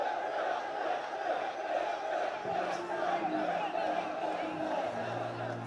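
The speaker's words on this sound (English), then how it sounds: "they're having fun with this crowd. It really is a wonderful atmosphere here in Sheffield" A large crowd at a boxing open workout in Sheffield keeps up a loud, continuous roar and cheering, with a voice talking over the noise.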